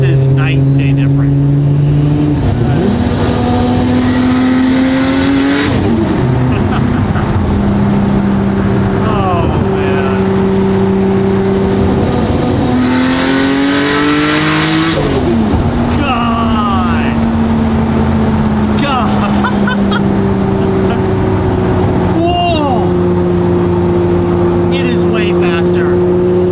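A Nissan R32 GTR accelerating hard on the road, its engine note climbing loud and close through repeated rising sweeps between gear shifts, with a voice talking over it.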